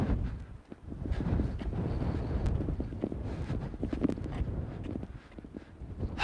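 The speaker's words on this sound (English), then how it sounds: "It hasn't been this windy out here in quite some time" Strong gusting wind buffets the microphone on an outdoor walking trail, a rough, steady low roar that swells and dips throughout without any talking.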